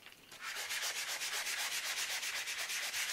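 Sandpaper rubbed back and forth with a snow block sanding block, a steady rhythmic rasping scrape with quick regular strokes, close and continuous after a brief quieter start.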